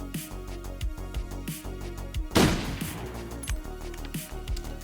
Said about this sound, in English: Pistachio continues to fire at the beast.